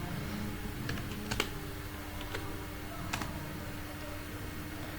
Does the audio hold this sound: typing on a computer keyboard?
yes